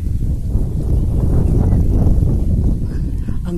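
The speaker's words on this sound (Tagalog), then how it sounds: "Ang hangin dito." Strong wind buffets the microphone at Amaia Scapes in Rizal, a low, rumbling roar that stays loud and constant throughout.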